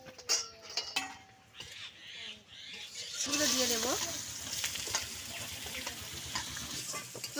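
Sizzling oil crackles steadily after dried chilies and bay leaves hit a hot pan, with a burst of louder frying midway and faint clinks of utensils.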